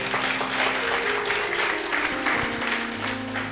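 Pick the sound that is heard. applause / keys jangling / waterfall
applause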